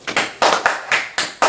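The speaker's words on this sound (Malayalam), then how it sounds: "കൈയടിക്ക്." Several sharp hand claps land in a quick, slightly uneven run, close and loud, during a lively family game among cousins.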